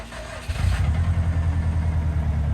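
A car engine, likely a Subaru WRX, catches about halfway through and settles into a steady, loud low rumble at idle, preceded by brief cranking.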